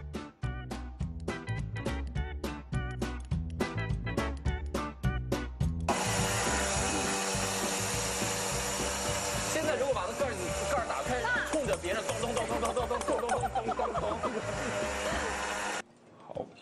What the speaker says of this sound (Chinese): 拿那个破壁机。